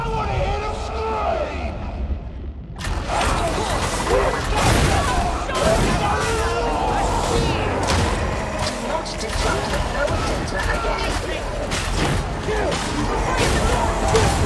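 Enemy gunfire crackles in the video game Darktide, dense and continuous after a sudden start, with players talking over the battle noise.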